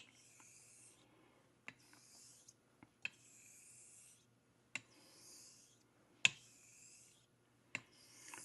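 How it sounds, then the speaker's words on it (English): A knife edge honed by hand on a Karasu Japanese natural whetstone, soft rasping strokes repeated at a slow, even pace, each ending in a sharp click, faint and close with no talking. "My normal method for honing is pretty silent and pretty focused on feel."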